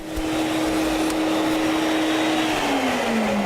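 A Serena vacuum cleaner runs steadily close by, a loud continuous suction roar with a high whine that drops slightly in pitch near the end.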